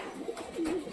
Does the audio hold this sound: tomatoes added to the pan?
no